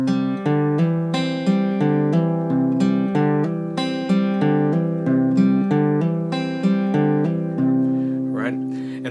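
A fingerstyle guitar plays a descending hammer-on exercise, with clear plucked notes and rhythmic hammered follow-ups in an even, repeating pattern, close and bright with ringing sustain, ending in a brief string scrape.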